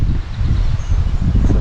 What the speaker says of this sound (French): Il y a du vent gentil